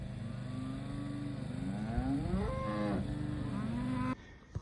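Cattle on a ranch moo loudly and close, long drawn-out calls that overlap and swell into a chorus before cutting off abruptly.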